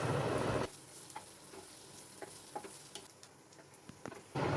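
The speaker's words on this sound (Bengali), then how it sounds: "এবার অল্প পেঁয়াজ কুচনো দিয়ে দিলাম। হালকা লাল করে ভেজে নেব।" Chopped onion fries in hot white oil in a wok, a steady bright sizzle with scattered ticks and pops, loudest at the start and end with a softer crackling stretch between.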